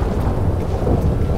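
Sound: rain and thunderstorm in GTA 5 video game

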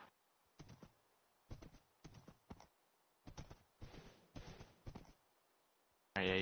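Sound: horse hooves clip-clopping in Minecraft, a video game

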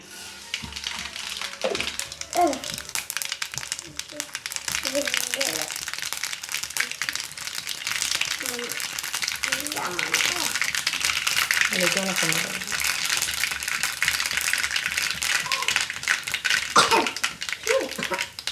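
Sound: mustard seeds popping in hot oil

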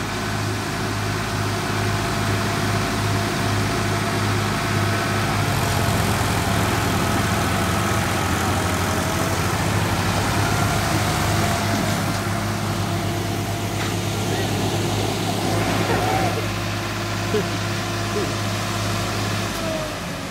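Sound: tractor engines running while pulling a stuck Preet 3549

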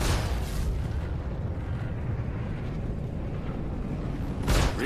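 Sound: weapons fire hitting ship's rear shield in Star Citizen game

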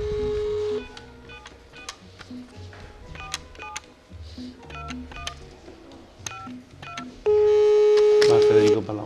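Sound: telephone being dialed

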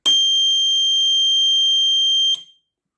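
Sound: electronic buzzer alarm on work light

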